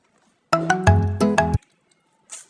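A phone ringing indoors, a short burst of bright tonal ring pulses lasting about a second, fairly loud and close, followed by quiet and a faint brief hiss.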